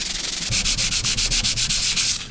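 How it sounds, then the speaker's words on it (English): Rhythmic back-and-forth 100-grit sandpaper scraping on a Subaru WRX, steady strokes about five per second, close and loud with no voices. "It's time to get to sanding."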